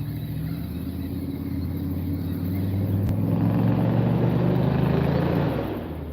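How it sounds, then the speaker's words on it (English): Steady road traffic near a riverside fishing spot on the Penobscot River in Maine, a continuous low rumble of passing cars that swells as a vehicle goes by, then fades slightly at the end. "Sorry about the noise, guys. I am pretty close to a road."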